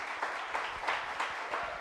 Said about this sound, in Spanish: dele una ofrenda de palmas al Señor por eso